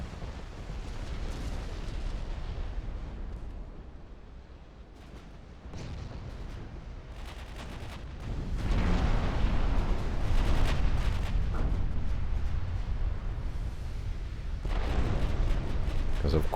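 Naval battle in Ultimate Admiral Dreadnoughts, US against Japan: dense rumbling gunfire and explosions roll on continuously, swelling louder midway with repeated heavy booms and bursts layered over a low roar.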